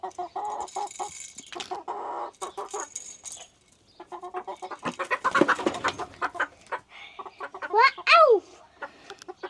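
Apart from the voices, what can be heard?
young chickens clucking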